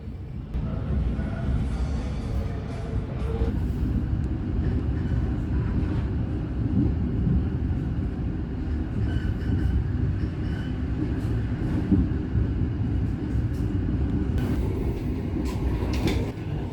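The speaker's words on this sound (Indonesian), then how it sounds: "kereta api Tegal Bahari tiba di stasiun Cikarang" A Tegal Bahari economy-class long-distance passenger train pulls into Cikarang station, a steady, loud low rumble of rolling wagons that holds throughout, with faint squeals and clatter near the end.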